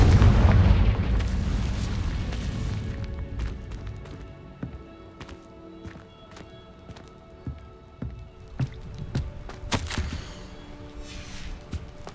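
Confringo fire spell from Hogwarts Legacy going off as a heavy booming blast that rolls and fades, then a scatter of sharp cracks and small impacts with one bright burst near the end.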